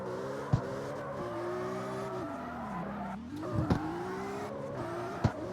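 A tuned Nissan S15 drift car in the CarX Street racing game drones at steady high revs, the engine pitch sweeping up and down with brief clicks of gear shifts.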